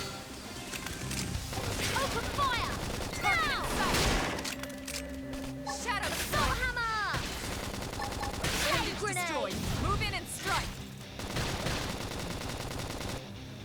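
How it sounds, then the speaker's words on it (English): Rapid bursts of gunfire ring out in the video game Xenoblade Chronicles X, dense and loud, layered with whooshing effects and game sounds over several seconds. "I'm shooting that thing."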